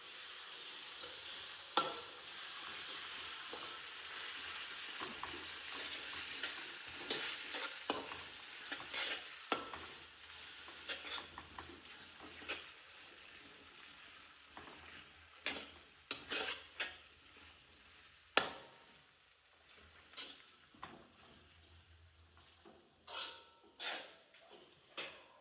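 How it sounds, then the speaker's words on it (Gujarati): Green turmeric is stirred and fried in a pan with a flat spatula: a quiet sizzle runs under repeated sharp scrapes and clinks of metal on the pan that come more often toward the end. "તો આપણે એમાં પહેલા લીલી હળદર એડ કરી દઈશું. અને તેને સારી રીતે મિક્સ કરશું."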